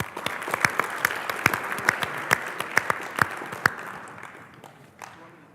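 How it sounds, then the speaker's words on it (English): An audience at the MIT Battlecode 2014 final tournament applauds Akamai with a burst of dense, close clapping and sharp individual claps that gradually thins and fades out. "So everyone give a round of applause for Akamai."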